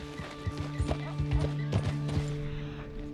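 Horse hooves clip-clop at a steady walking pace in Red Dead Redemption 2, close and fairly loud over a constant tonal game-music drone, with a brief neigh-like sound mixed in.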